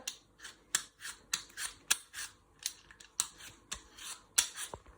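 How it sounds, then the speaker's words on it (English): Scraping strokes of a handheld peeler stripping skin off an apple for a crumble repeat in a quick, uneven rhythm, each pass a short crisp rasp, close and fairly quiet with no talking. "you peel all the skin off using your peeler."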